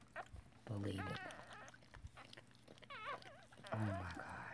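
A litter of seven newborn puppies whimpering, with thin rising and falling squeaky cries in several short bursts, close and faint.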